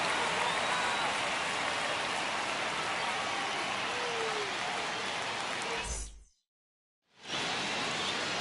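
Stadium crowd noise in a baseball video game on opening day, a steady hissing roar of cheering that cuts out briefly to silence before resuming.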